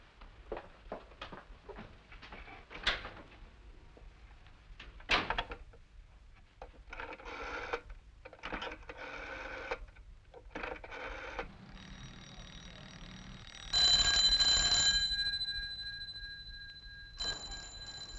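An office telephone bell rings in repeated bursts with short pauses between them, close and clear, with no talking over it.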